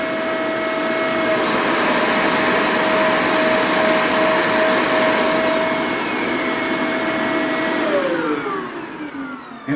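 A Shark NV752 vacuum cleaner runs close and loud with a steady whine and several sustained tones; one tone steps up about 1.5 seconds in and falls back near 5 seconds, and the motor winds down near the end.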